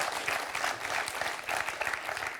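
Studio audience at a French TV quiz show applauds steadily, a dense, even patter of many hands clapping close and continuous without pause.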